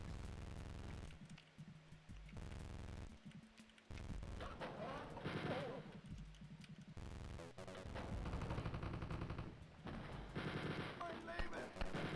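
Enemy soldiers fire at the player in Wolfenstein 3D with rapid, loud, harsh bursts of gunfire, interrupted by short gaps and overlapping shots, under a voice talking.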